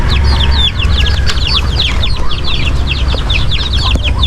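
Chicks peep in a rapid, continuous chorus of high chirps while being moved to a new coop, close and steady over a low background rumble, with no talking.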